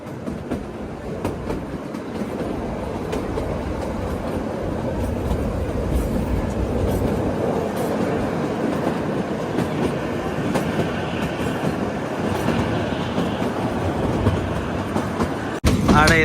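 The Himalayan Queen toy train running on the Kalka–Shimla railway, heard from inside as a steady, loud rumble with rattling carriage noise and faint wheel clatter throughout.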